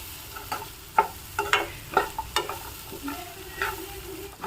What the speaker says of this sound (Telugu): ధనియాలు జీలకర్ర పౌడరు వేసిన తర్వాత కూడా బాగా వేగిందండి.